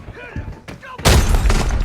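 A grenade blows up in the shooter game Arena Breakout, a sudden loud, wide boom about a second in that rolls on with rumbling debris, following a quieter stretch with voices.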